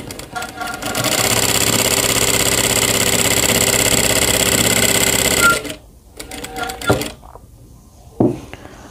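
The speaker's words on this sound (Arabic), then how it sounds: "فاحنا هنخيط اهو دلوقتي" Sewing machine stitching fabric for an L-shaped corner sofa cushion cover, a loud steady motor run of about five seconds, then stopping, followed by short handling clicks and bumps.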